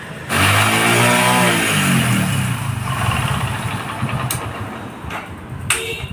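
A Hero Splendor Plus motorcycle with a worn sprocket bearing and chain noise starts up and revs, then settles into a close, uneven idle with mechanical rattling and a couple of sharp clicks.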